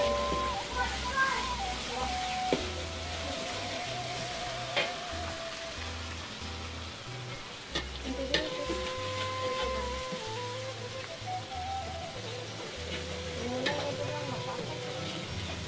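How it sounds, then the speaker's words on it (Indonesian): Spices frying in a pan while making seblak, a steady close crackling sizzle with scattered sharp pops and clinks, running continuously beneath people talking and a low rhythmic background thumping. "bumbunya digoreng"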